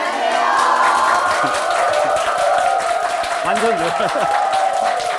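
An audience of parents at a school information session claps and cheers in a loud, steady roar of applause, with a voice briefly rising over it near the end.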